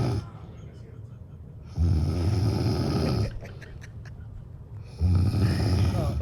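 A woman's recorded snoring plays back in loud, rhythmic bursts, two long rasping inhales separated by a quieter stretch, with faint noises between them.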